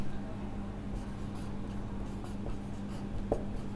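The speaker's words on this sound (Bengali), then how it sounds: "এবার লিখব কারণ" A marker or chalk scratches across a board during a chemistry lecture, giving a low continuous rubbing texture with faint strokes and an electrical hum beneath, close and with no clear talking.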